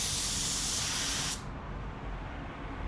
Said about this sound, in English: For the first spray out, I'm gonna have our pressure at 22 PSI.